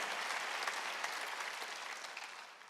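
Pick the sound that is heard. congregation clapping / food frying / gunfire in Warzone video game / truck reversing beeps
congregation clapping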